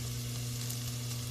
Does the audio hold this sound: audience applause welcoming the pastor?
no